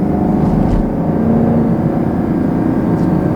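Exhaust of a 2020 Chevrolet Camaro 2SS with a 10-speed automatic revs in a steady, loud, sustained drone with a slight swell near the start, close to the listener and without talk.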